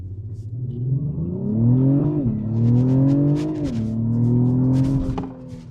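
An Acura TLX Type S engine revs hard on launch control, a loud rising-and-falling drone that climbs twice in pitch before settling, with no talking over it.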